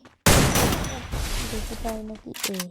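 Rapid gunfire bursts in a shooting video game with a one-shot weapon, loud and dense at first, then thinning into scattered shots while a voice speaks over the action.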